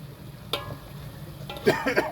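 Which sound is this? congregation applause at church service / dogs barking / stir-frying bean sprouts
stir-frying bean sprouts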